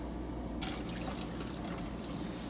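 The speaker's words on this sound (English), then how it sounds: "right now I'm going to strain it and rinse it really, really good" Cold tap water runs and splashes through quinoa held in a fine strainer, a steady close hiss of flowing liquid that grows brighter as the stream starts, no voices.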